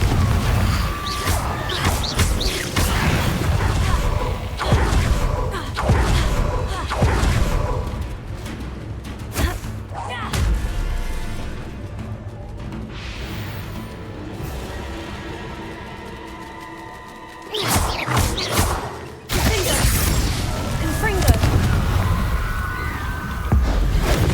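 Rapid Confringo blasting spells in the video game Hogwarts Legacy go off as a string of loud, close explosive bursts and crashes, with a brief quieter lull before a final heavy volley of blasts.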